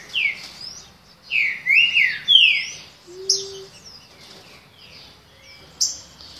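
A green-winged saltator sings a series of bright, slurred whistled phrases with short pauses between them, clear and fairly close over a quiet background.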